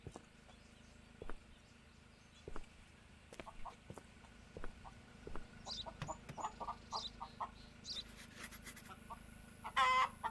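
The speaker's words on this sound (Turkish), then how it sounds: "Tavuklar da hareket halinde." Chickens carried as cargo in the video game Contraband Police cluck in short irregular bursts over a low steady hum, with a louder flurry of calls near the end.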